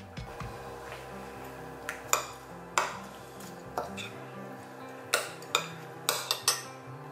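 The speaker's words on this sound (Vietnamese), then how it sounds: "Bây giờ mình sẽ trộn hết những cái nguyên liệu này lại với nhau." Utensils clink and scrape against a bowl while marinade ingredients for meat, including pepper and salt, are mixed by hand, giving a series of sharp, close taps and stirring knocks at an uneven rhythm with no talking.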